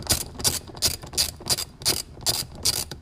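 Ratchet wrench loosening a bumper bolt on a 2017 Honda Civic Si, a steady run of rapid metallic clicks in about eight quick bursts, close and fairly loud with no talking.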